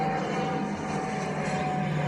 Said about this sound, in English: Wait for this plane to fly